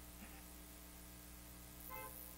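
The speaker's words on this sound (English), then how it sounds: "All right, honk your horn." At a drive-in church service during a game of Simon Says, parked cars sound their horns: two faint, brief honks from a distance over a low steady hum, with no voices.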